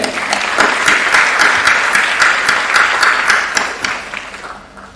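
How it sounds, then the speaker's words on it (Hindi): An audience applauds speakers at an investor awareness seminar, a dense, steady burst of many hands clapping close and loud, then tapering off toward the end. "तो फिर एक बार मुकुंद सर और मकरंद सर दोनों के लिए जोरदार तालियां।"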